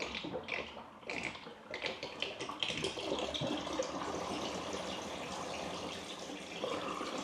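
A strong stream of water runs steadily in a newly waterproofed shower, a dense continuous hiss and splash with a few sputtering bursts at first, then a full even flow.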